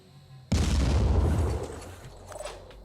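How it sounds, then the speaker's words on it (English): A rocket explosion in the Phoenix Point tactical video game lands as a single loud, sudden boom, followed by a rumbling decay over about two seconds, with faint debris crackles trailing off. "We might even use a rocket on it."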